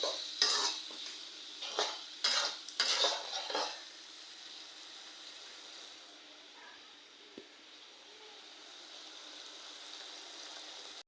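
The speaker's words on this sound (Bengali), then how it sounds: "চিংড়ি মাছগুলো এই যে কষানো হয়ে গেছে" Shrimp being braised in a pan, stirred with a utensil in a few sharp scraping strokes over the first seconds, then a soft steady sizzle continues alone.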